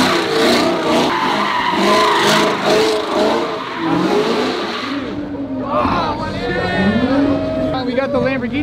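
A Lamborghini drifting with tires skidding and squealing, engine roaring loudly, then the screech eases into wavering tire noise near the end, with people talking over it.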